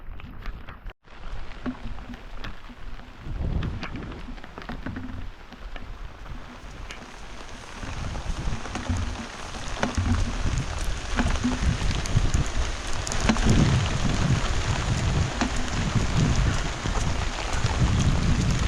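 Rain pours steadily onto a surface for a long stretch, a dense hiss of drops that grows heavier toward the end, with faint wind.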